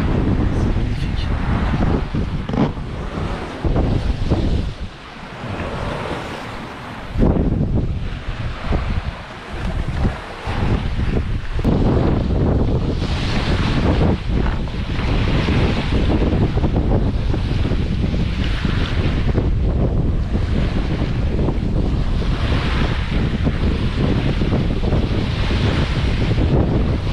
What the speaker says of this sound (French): Le meilleur moment, c'est naviguer la nuit à la voile.